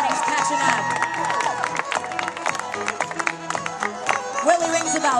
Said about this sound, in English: Cheer him on, everybody, real loud.